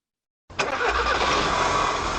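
A car engine starts after a repaired starter Bendix, catching at once with a sharp crank burst and then settling into a steady, loud idle with no voices.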